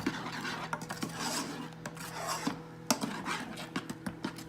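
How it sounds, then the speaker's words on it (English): Steady scraping and stirring of a spoon against a pot of boiling cake batter fudge, with light rhythmic knocks over a constant low hum. "you're just gonna make sure you keep stirring it"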